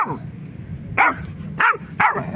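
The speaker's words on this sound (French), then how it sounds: "mon chien s'est fait un copain, un bébé border collie" A baby border collie plays with another dog: a short yelp, then three sharp barks spaced under a second apart, close and fairly loud.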